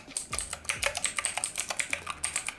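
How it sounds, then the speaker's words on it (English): Blue-switch mechanical keys on a K-700 one-handed gaming keyboard clack in a quick, steady run of loud, close, crisp clicks, with no talking. "This is what the keys sound like."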